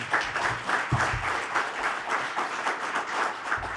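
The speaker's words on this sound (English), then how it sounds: "Let's give a nice big round of applause for Sue Gordon" An audience at a defense ceremony breaks into applause, a dense, continuous clatter of many hands with slight rhythmic swells, steady throughout the short stretch.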